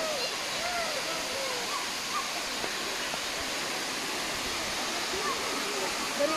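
Water rushes continuously with a dense, even roar at Can-Umantad Falls in Bohol, with faint chirps and voices barely audible beneath it.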